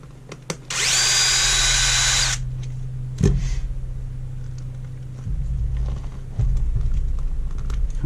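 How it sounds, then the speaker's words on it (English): A power drill whirs in one loud, steady burst of a second or so while driving screws into RC tire paddles, followed by clunks and a low rumbling handling noise. "I really recommend a good power drill"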